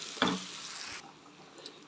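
Minced garlic sizzling in melted butter in a pan, a steady loud fry with a brief stir-scrape at the start, the sizzle dropping slightly in level midway.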